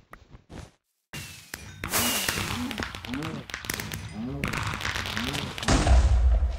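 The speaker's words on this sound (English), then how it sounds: "that was one of the explosions" An explosion in the Minecraft GT: New Horizons modpack hits as a sudden loud, broadband blast after a moment of silence. A voice talks excitedly over the rumbling aftermath.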